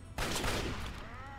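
A brief, loud burst of gunfire from the Fallout 3 video game, a single sharp blast that quickly rings out and decays.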